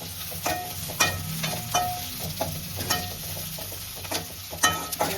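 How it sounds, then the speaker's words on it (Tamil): Onions frying in a pan until golden, a steady close sizzle broken by regular scraping stirs every second or so, each stir a brief crisp rasp of the spatula. "அடுத்து கொஞ்சம் சூப்பராக நன்றாக பொன்னிறம் வரை வறுக்க வேண்டும்."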